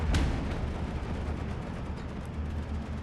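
Tank cannon fire and explosions from M4 Sherman tanks in the wartime strategy game Steel Division 2, a dense, continuous rumble of distant booms and bursts with a heavier blast near the start.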